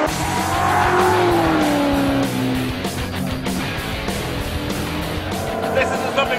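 A South African-made Superformance GT40 racing car drives hard with a steady, loud engine roar and tyre squeal through a bend, close to the microphone.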